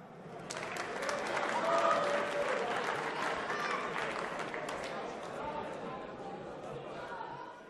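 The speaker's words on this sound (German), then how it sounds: "Ihr Applaus bitte" A crowd at a boxing match applauds steadily, the clapping swelling early then slowly tapering while staying sustained throughout.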